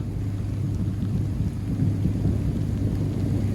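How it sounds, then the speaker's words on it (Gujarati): Thunder rumbling over the sea off Dwarka during a storm, a loud continuous low roll mixed with heavy rain, heard from aboard a fishing boat. "વાદળા આટલા ગાજી ને કે કાનના પડદા ફાટી જાય"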